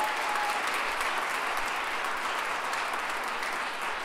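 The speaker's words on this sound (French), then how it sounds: "Une bonne main d'applaudissements" Steady, dense applause from a crowd during a 350th anniversary celebration in Lavaltrie, clapping for people posing for a group photo, continuous and fairly loud for the whole stretch.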